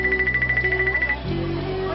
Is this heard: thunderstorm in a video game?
no